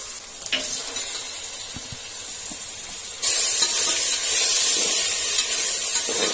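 Curry leaves and ghee sizzle steadily in a hot pan for mushroom biryani, a bright continuous hiss that swells louder halfway through, close and alone with no talk.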